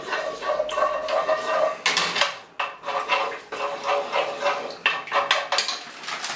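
Flour being stirred into melted butter for a roux, rhythmic scraping and clinking of a utensil against the pan, close and fairly loud, with brief pauses between strokes.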